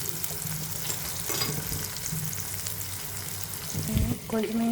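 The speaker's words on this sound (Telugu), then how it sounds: "కొంచెం కరివేపాకు వేసుకొని ఆనియన్స్ బాగా ఫ్రై చేయాలి" Two small onions with a little salt frying in hot oil in a pan, a steady close sizzle with occasional stirring and clinks near the end.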